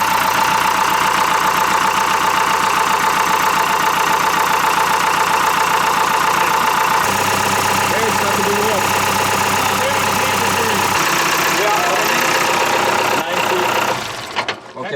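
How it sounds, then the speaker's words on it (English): An old German boat engine, 47 years old and troubled by hard starting and overheating, runs loud and close with a steady, rough, knocking idle. Its tone shifts partway through, then it cuts out abruptly near the end. "A German engine."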